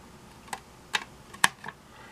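A few separate keystrokes on a PS/2 computer keyboard hooked to a Gigatron computer through an adapter: about four sharp clicks spaced unevenly, close and clear against a quiet background.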